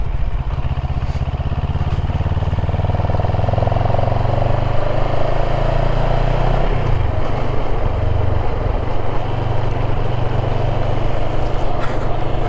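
A CFMOTO 700 CLX motorcycle rides steadily on a gravel road at moderate speed. A continuous loud engine drone carries wind rush and crunching gravel beneath it, with a brief shift in pitch midway and no talk.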